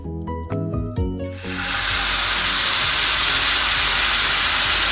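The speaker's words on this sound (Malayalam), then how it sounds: "ഇനി നമുക്കിതിലേക്ക് ശർക്കര ഉരുക്കിയതാണ് ചേർക്കുന്നത്" Melted jaggery syrup is poured onto sautéed carrot and grated coconut in a hot pan. After a brief musical intro, it bursts into a loud, steady, hissing sizzle that continues close up without any talking.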